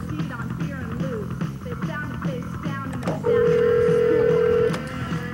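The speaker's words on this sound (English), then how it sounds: "While I'm dialing this number" A telephone number being dialed on a 1980s call-in line, with regular soft clicks at an even pace, then a steady tone that holds for over a second before the clicks return, all fairly quiet.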